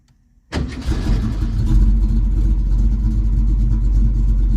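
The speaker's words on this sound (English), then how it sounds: "That's actually a pretty healthy sounding 700 idle right there." A carbureted Ford 302 V8 cranks and catches abruptly after a brief silence, then settles into a loud, steady, rumbling idle around 700 rpm, close up with no talk.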